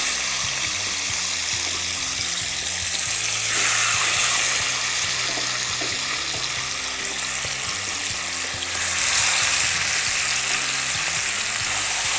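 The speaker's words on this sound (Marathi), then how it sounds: "आता आपण तेल गरम करून घेऊयात। आता आपण हे रोस्ट करून घेणार आहोत।" Green-marinated chicken roasting in hot oil in a pan gives a steady, close sizzle with a bubbling wet texture, swelling louder around the fourth and ninth seconds, with no talking.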